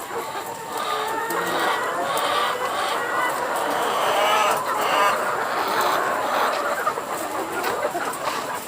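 Many laying hens cluck and murmur together in a busy, continuous chorus, close and fairly loud, with occasional sharper calls standing out.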